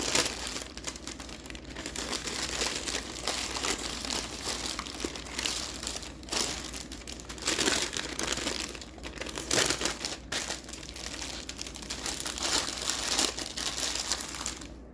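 Close, continuous crinkling and crumpling of foil as baby back ribs are wrapped tightly and the ends folded in, steady rustle throughout with no talking.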